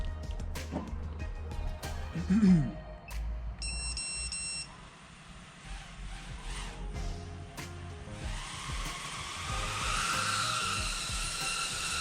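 A quadcopter on Diatone ToKa 2203.5 motors with 5-inch HQ 89mm eight-blade props gives a few short electronic beeps, then its motors spin up into a steady, fairly soft whirring hum that builds toward the end, with no one talking.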